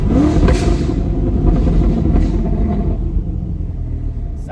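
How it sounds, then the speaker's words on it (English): A tuned Chevrolet C8 Corvette downshifting, its engine loud and close with a rising rev blip at the start, then a deep rumbling drone that gradually settles lower. "Let's do some more downshifting."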